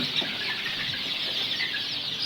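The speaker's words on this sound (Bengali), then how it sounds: "এখানে আছে আমাদের কিছু লেয়ার মুরগির বাচ্চা" A crowd of six-day-old layer chicks on a farm chirps and clucks continuously, a dense, high-pitched twittering chorus close by.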